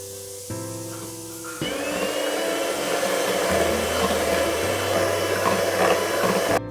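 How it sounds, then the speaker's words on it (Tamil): An electric mixer beats eggs with sugar for a vanilla sponge cake, giving a steady, loud motor whine that steps up in intensity and runs continuously. "இப்போ நம்ம சர்க்கரை ஆட் பண்ணி திருப்பி அடிக்க போகிறோங்க."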